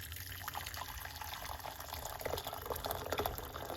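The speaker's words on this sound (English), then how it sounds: "Hot water." Hot water poured while making pineapple peel tea, a soft continuous splashing trickle close by, faint and steady for a few seconds with no talk.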